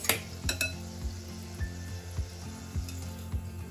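Vada batter dropped into hot oil in a kadhai for Mumbai vada pav sizzles steadily and close by, punctuated by repeated thumps and clinks of a spoon against the pan; no one speaks.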